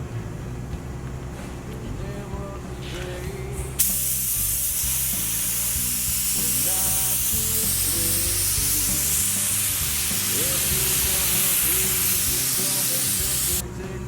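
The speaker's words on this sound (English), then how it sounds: "Putting on the final coat." Spray gun laying a final clear coat on a car in a build for SEMA, a loud continuous hiss that starts suddenly and holds steady for about ten seconds before cutting off, with a voice heard faintly before it starts.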